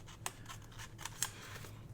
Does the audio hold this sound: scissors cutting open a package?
yes